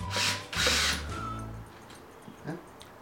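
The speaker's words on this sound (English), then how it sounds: "Are you ready to drill yours?" A power drill bores into a car bumper to fit canards, two short loud whirring bursts followed by a slowing spin-down, then faint handling noises.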